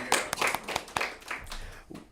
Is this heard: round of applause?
yes